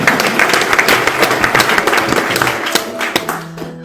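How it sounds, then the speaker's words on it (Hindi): Audience applause at a Republic Day kavi sammelan poetry recital, a lively patter of many hands clapping close by with distinct sharp claps standing out, fading as the burst winds down. "क्या बात है, तो जोरदार ताली।"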